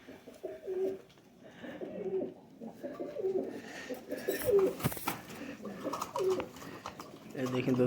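Kasuri high-flyer pigeons coo softly in repeated low, throaty phrases, close by under a faint background murmur, with a brief rustle midway.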